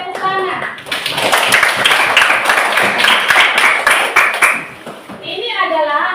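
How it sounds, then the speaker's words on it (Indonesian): A classroom group claps together in a loud, lively burst of many hands, framed by a teacher's voice before and after. "Oke, sekali lagi kasih tepuk tangan."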